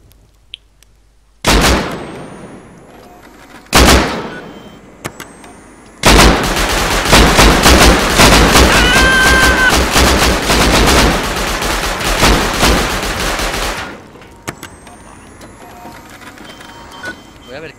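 Gunfire in the survival video game Rust, sharp shots in bursts near 1.5 s and 4 s, then a sustained dense stretch of rapid fire from about 6 to 14 s, loud and close.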